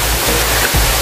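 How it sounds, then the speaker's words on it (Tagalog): A waterfall along a rocky hiking trail pours as a broad, steady rushing roar, loud and unbroken through the short moment, with a faint low thump midway. "naririnig ko na yung sound ng water"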